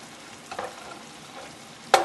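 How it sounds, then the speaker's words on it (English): Onions stir-fry with caraway seeds and garlic in a pan: a quiet, continuous sizzle broken by two sharper spatula scrapes, one early and a louder one near the end. "Just breaking apart all the onions, making sure that they're cooking evenly"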